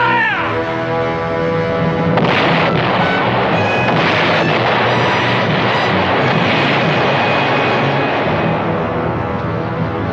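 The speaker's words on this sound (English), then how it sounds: "Cannons, fire!" Cannons fire from a ship in an animated 20,000 Leagues Under the Sea adventure, a dense continuous roar of booming blasts and rumble filling the scene at high volume with no pauses.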